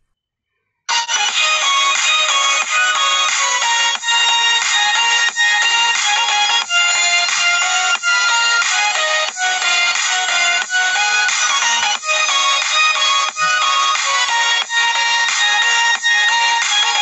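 A realme Narzo 20 phone speaker plays a bright, looping ringtone melody with regular rhythmic accents, loud and continuous with nothing else behind it.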